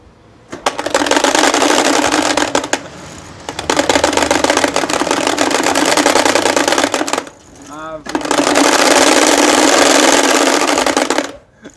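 Motorcycle engine fitted with a custom twin-cone exhaust revving loud and raspy in long sustained bursts, dropping briefly between them, with people talking over it.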